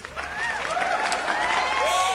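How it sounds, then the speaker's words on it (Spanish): Short burst of clapping and cheering from a group during a TikTok dance choreography tutorial, with overlapping whoops and voices riding over the applause. "aplauso para ustedes nuevamente"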